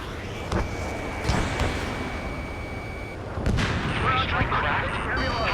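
Jet combat in the video game Ace Combat 7: Skies Unknown, with repeated booming gunfire and missile blasts over a constant roar of aircraft noise, with radio warning beeps and short voice callouts mixed in.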